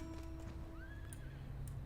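A horse mount neighs in Final Fantasy 14: A Realm Reborn, with the whinny rising and wavering near its middle over soft clip-clopping hooves and steady game background sound.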